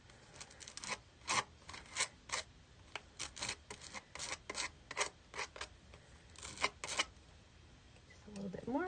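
Craft material being scraped by hand while pressed down firmly, heard as a series of short, rasping strokes in uneven bursts, close and moderately loud, with quiet room noise between them.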